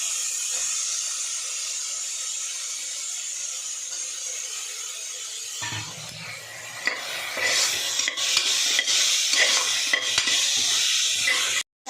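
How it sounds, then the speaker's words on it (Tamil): Beans, carrot and potato go into hot oil for coconut milk rice: a quiet hiss gives way to a louder burst of sizzling with stirring scrapes and clatter that continues steadily to the end. "பீன்ஸு, கேரட்டு, உருளைக்கிழங்கு அதையும் போட்டு அந்த ஆயிலே வதக்க போகிறேன்."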